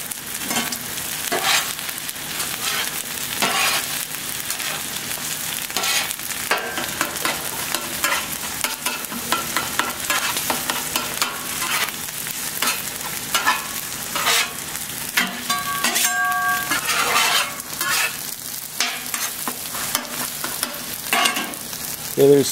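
Eggs sizzling and frying on a Camp Chef flat top griddle, a steady crackle under repeated scraping and stirring of a metal spatula against the hot plate, close and continuous.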